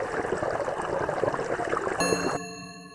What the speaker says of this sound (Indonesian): Oke, kita disuruh isi keran teko.